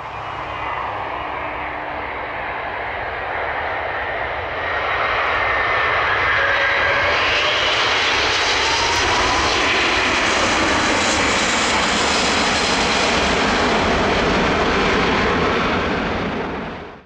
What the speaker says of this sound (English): This Airbus A380 aborting its landing attempt after touching down too late.